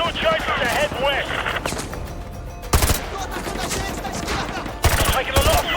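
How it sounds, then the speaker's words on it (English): Rapid automatic gunfire in Modern Warfare 2 Remastered during a favela chase, several loud bursts with crackling shots and game effects in between, with voices also heard. "Taking a lot of fire from the militia."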